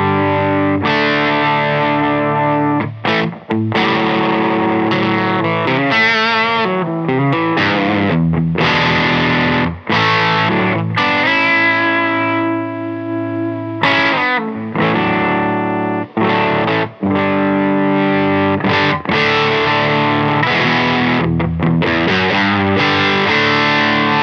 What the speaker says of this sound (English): If you like really deep fuzzy fuzz, this is really that kind of pedal.